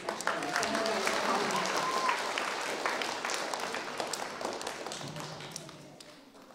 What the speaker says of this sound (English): So round of applause for our fifth grade section leaders.